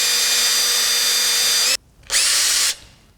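A cordless drill fitted with an Allen key whines loudly at high speed twisting wire held in a vise, cuts out briefly, then spins up again in a second short burst before stopping.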